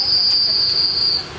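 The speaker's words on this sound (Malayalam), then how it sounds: "വിസിൽ മുഴങ്ങി." At Vicenza railway station in northern Italy, heard from aboard a train, a single sustained high-pitched departure whistle sounds steadily for just over a second against low rumbling background noise.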